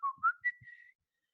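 A short whistled tune: a few rising notes then a held pitch, clear and close, ending abruptly into silence.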